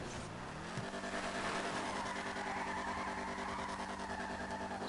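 Car engine droning steadily while driving up a hill in GTA Online, a sustained mid-pitched hum with harmonic whine and no speech over it.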